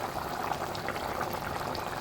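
Chicken simmering half-cooked in a lidded pot, a steady dense bubbling boil that stays even and fairly loud throughout, with no voices.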